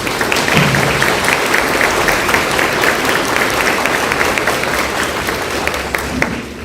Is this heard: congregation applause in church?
yes